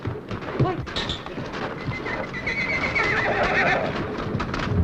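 A horse gives a long, shrill whinny amid a busy rumble of hooves and movement, fairly close and loud.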